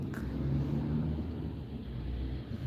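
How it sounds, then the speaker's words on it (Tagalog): City street traffic on a misty, drizzly day, a low continuous rumble of nearby car engines with a faint revving swell, no voices. "Uy, traffic. Tingnan nyo naman, traffic."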